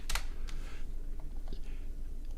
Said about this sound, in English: because Jerry is too quick on the typing